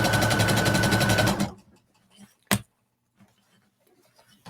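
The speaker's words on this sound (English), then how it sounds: "I'm just going to sew right down the strap." A sewing machine runs fast down a strap trimmed with fold-over elastic, a close, rapid rhythmic stitching clatter lasting about a second and a half, then stopping, followed by a single sharp click and faint handling noises.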